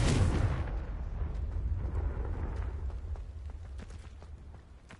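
A Confringo blasting spell detonates in Hogwarts Legacy, a loud booming explosion at the start that rolls into a long rumbling decay, with scattered crackles and debris pops trailing off.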